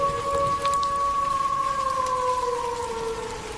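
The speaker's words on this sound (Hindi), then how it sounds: "बाहर अभी तेज बारिश हो रही थी" Heavy rain pouring outside on a stormy night, a dense continuous hiss, with a long, slowly falling tonal wail drawn across it like a distant siren or howl.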